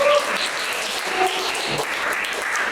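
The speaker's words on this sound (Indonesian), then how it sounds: "Beri aplaus untuk diri kalian masing-masing." A class of students claps together after their presentations, a moderately loud, even patter of many hands that holds steady without a clear peak or pause.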